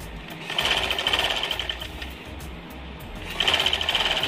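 A sewing machine stitches a frilled pillow cover in a steady, close whir that swells into two louder bursts of fast stitching at the start and end.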